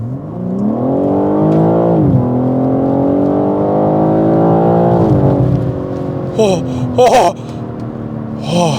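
A BMW M3 Touring engine revs hard and climbs in pitch, drops back briefly, then surges again before easing off with a few sharp pops.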